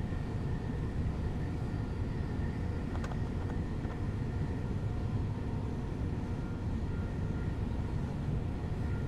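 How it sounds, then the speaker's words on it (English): A Train Sim World 2 express train on the London to Brighton line runs under throttle, giving a steady, broad mechanical rumble and hum with faint intermittent clicks and no talking. "let's give it a little bit more throttle because I can see that my speed is"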